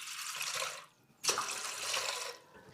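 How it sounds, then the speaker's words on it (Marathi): Water poured into a large cooking pot for sabudana papdi, a close rushing splash in two pours separated by a short pause, without talk. "या पातेल्यामध्ये आपण सुरुवातीला 8 फुलपात्रे पाणी ओतून घेणार आहोत"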